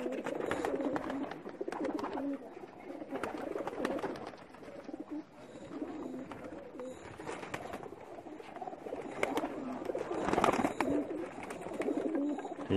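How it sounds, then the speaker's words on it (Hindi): Pakistani high flyer pigeons coo steadily in a loft, several birds overlapping in a soft continuous murmur with occasional louder bursts and faint wing patter. "ये तमाम के तमाम कबूतर मिर्ज़ा अरसलान बेग और मिर्ज़ा अब्दुर्रहमान बेग के हैं।"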